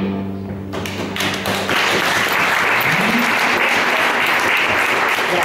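Audience applause after a poetry reading of "Coscienza Pulita" at Ca de' Lab, broad and steady clapping that swells after a brief quieter start and holds dense and loud to the end.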